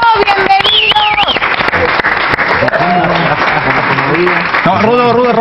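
A television studio audience applauds and cheers as two Olympic divers are welcomed onto a talk show, with loud continuous clapping mixed with voices and shouts.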